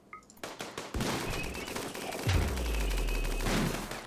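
Weapons firing EMP shots in RimWorld combat, a rapid series of sharp gunfire cracks and bursts over several seconds, followed by a low rumbling boom that swells and lingers.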